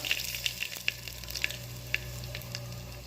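Mustard seeds popping and spluttering in hot oil for a soybean-chunk khichdi tempering, with sharp scattered crackles over a steady low sizzle, close and fairly quiet, no voices.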